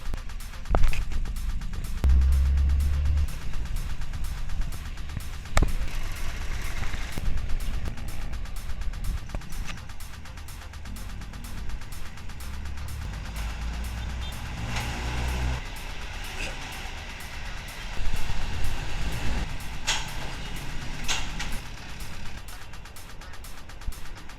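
Road traffic along Pasong Tamo in Makati, a continuous rumble of cars and trucks with heavier vehicles swelling past up close and a brief air-brake hiss, loud and steady throughout.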